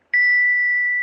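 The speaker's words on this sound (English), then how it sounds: "You hold the bell, and I'll tap it with the pendant." A small bell tapped once with a crystal pendant, giving a single clear, bright ding that rings on with a long steady sustain, alone and close, as a radio drama sound effect.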